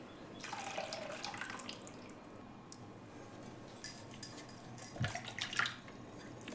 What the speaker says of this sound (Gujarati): હું આ પાણી થોડું મિક્સર જારમાં એડ કરી અને એ થોડું એડ કરીને આપણે આ રીતે એક વાટકી જેટલું પાણી એડ કરી દઈશું